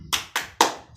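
Three sharp, evenly spaced hand claps ring out close by in a primary school classroom as pupils perform a rhythmic cheer chant, each clap crisp and loud with no talking.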